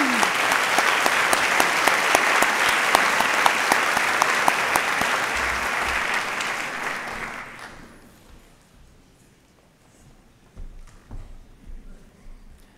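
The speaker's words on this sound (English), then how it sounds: "we're going to give us all another round of applause" Sustained round of applause from a large audience of faculty and staff at an opening meeting, loud and dense for about eight seconds, then fading to scattered claps and a few thumps.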